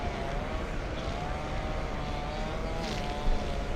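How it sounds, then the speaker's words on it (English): A United Boeing 787-9 Dreamliner on final approach into LAX, arriving from Newark, heard as a steady distant jet roar with a faint whine, moderate in level and continuous, with no talking. "Next one on final, we have United 1321 flying in from Newark, a 787-9 Dreamliner."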